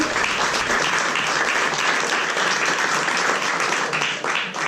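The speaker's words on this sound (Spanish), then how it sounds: "Les pido un aplauso para la maestra María Cristina, por favor" Audience applause for a teacher at an academic conference in Mexico, a full, even burst of clapping from a room of people that tapers toward the end.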